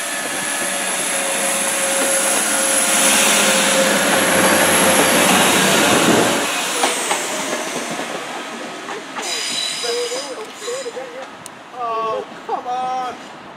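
A British Rail Class 175 diesel train passes close by, a loud sustained roar with rail noise that fades after several seconds, followed by quieter station ambience and faint wheel squeals.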